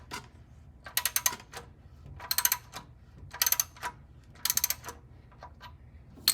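Ratchet and socket loosening a bolt on a 1967 Plymouth Fury III, four quick bursts of sharp metallic clicking at a steady pace, close and fairly quiet, with short pauses between strokes.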